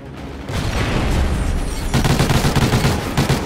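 Gunfire in a team-based first-person shooter video game: rapid bursts of close, loud shots, with a sustained volley followed by dense, rhythmic automatic fire and no talking.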